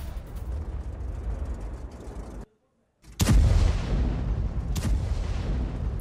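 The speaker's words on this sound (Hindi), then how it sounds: "हिजबुल्लाह के लड़ाके नसरल्लाह की तस्वीर के साथ बमबारी कर रहे हैं।" Hezbollah fighters bombarding Israel with artillery: a steady rumbling barrage, a sudden silent gap, then a loud close boom followed by another blast and continuing roar.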